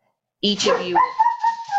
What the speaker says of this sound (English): there they go again. Sorry about the dogs.